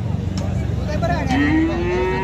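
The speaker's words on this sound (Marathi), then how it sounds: "ह्या टाईपच्या गाई शेतकरी मित्रांनो सांगोला बाजारामध्ये विकायला असतात दावणीला" A cow tethered at the Sangola cattle market lets out one loud, long rising moo close by, over a busy rumble of market noise and engines.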